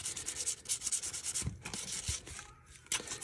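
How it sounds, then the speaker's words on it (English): Close, steady scratching of 320 grit sandpaper rubbed back and forth in quick, even strokes on a pocket prybar before its final coat, with brief pauses between passes. "hit it with some 320 grit sandpaper just to get it ready for the final coat."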